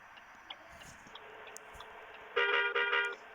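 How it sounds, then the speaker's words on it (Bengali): A bus horn in a bus simulator game gives one loud, sustained honk with a brief break near the end. Before it there is only a faint game engine and ambient hum. "আমরা হর্ন দিচ্ছি কারণ গাড়িগুলো সাইড করার জন্য"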